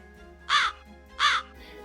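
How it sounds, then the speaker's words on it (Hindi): Two loud, harsh caws from a crow in a Hindi cartoon story, close and clear, separated by a short pause, with no talk over them. "आपकी आवाज तो पूरी कौवे की तरह निकल रही है।"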